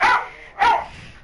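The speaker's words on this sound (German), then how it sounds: "Mein Hund bellt Dauertakt." A dog barks twice, with loud, close barks about half a second apart and a short gap between them. No other sound competes with the barking.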